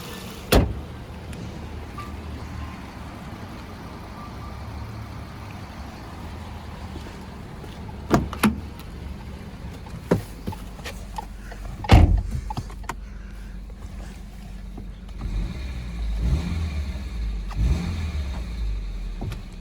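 A 2015 Subaru Outback 2.5i Premium with a 2.5-litre boxer four-cylinder idles with a steady, low, even rumble, broken by a few sharp clicks and thumps close by, with no voices.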